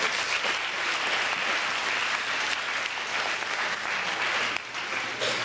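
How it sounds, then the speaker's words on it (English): An audience claps loudly and continuously, a dense, sustained round of applause filling the whole stretch with no voices standing out. "Let's give yourselves a round of applause."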